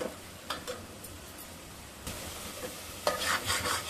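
Dal with homemade masala sautés in oil, a soft sizzle underneath repeated spoon scrapes and stirring strokes at irregular intervals, close and moderately quiet.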